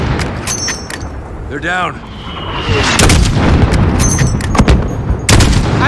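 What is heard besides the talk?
gunfire in Call of Duty Modern Warfare video game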